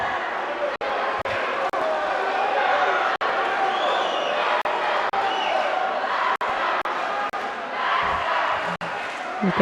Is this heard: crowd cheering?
yes